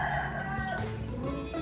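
Chickens on a rural property in the province, a rooster crowing with some clucking mixed in, faint and somewhat distant in the background, with no one speaking.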